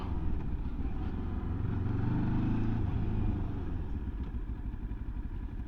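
A Mutt Stravaig 401 motorcycle braking and pulling up, its engine a low, steady rumble that eases down in pitch, close and fairly quiet, with faint road noise around it.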